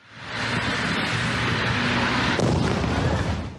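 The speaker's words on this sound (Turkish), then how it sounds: "Kazanın ardından vidanjörde yangın çıkarken meydana gelen patlama alevleri büyüttü." A loud, roaring burst of broadband noise, continuous rumbling through the clip with a sharper surge midway, as an overturned, burning vacuum tanker truck explodes outdoors on a road.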